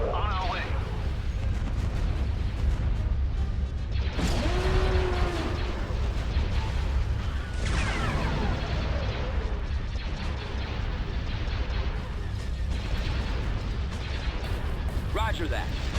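Cannons boom and explosions burst repeatedly in Star Wars Empire at War, Republic campaign, heavy low blasts and crackling debris layered under clipped unit voice responses.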